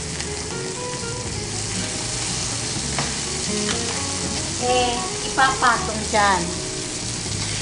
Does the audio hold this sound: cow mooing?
no